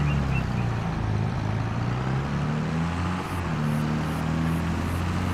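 An old 4630 tractor in a video game mod runs with a steady, loud low engine drone that holds constant throughout without pauses.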